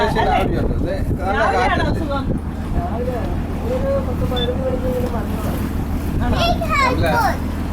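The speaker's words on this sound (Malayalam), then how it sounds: "കാറ്റ്" Wind gusts rumbling and buffeting the microphone throughout, loud and constant, with people talking over it.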